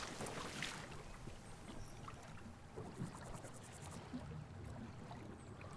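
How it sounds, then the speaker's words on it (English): Water sloshing and lapping beneath a small boat on a lake in the Rising World video game, a steady soft wash with gentle splashes and faint wind, no voices. "I love the way the water sounds underneath the boat."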